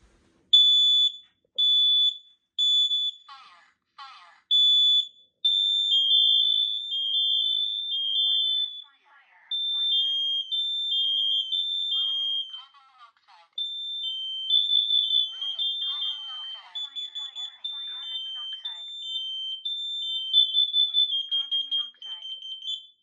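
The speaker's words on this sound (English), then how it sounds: "first alarm will be this Firenetics KN-COSM-IB" A Firenetics KN-COSM-IB smoke and carbon monoxide alarm on a demo board sounds a shrill, steady high-pitched beeping pattern, repeating throughout, with someone talking quietly underneath at times.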